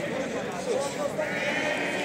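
Sheep and lambs bleat amid the steady crowd noise of a busy livestock market in Aksaray, with people talking over them throughout.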